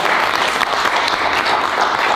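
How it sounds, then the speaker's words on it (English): Brief, loud round of audience applause after a group presentation, many hands clapping densely and evenly from close by with no talking on top. "Let's give another round of applause to them."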